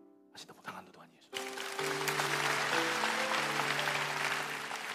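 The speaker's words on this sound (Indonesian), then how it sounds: "Kasih tepuk tangan untuk Tuhan Yesus." A church congregation bursts into applause after a brief murmur, the clapping swelling loud and dense while sustained keyboard chords ring underneath.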